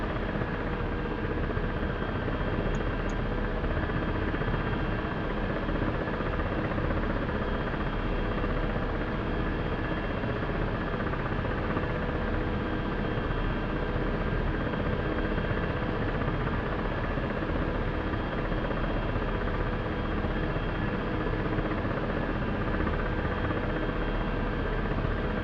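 A Black Shark helicopter lifts off in a flight simulator game, its rotor and engine forming a steady, dense drone that holds evenly for the whole stretch with no talking.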